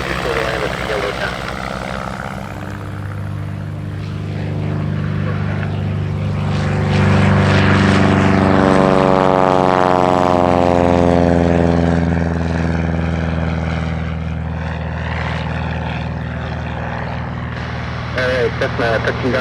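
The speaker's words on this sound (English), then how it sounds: "Cessna, touching down runway 36 right." A Cessna high-wing taildragger lands at EAA AirVenture Oshkosh 2018, its propeller engine droning loudly and changing pitch as it passes close by, while an announcer talks over the sound.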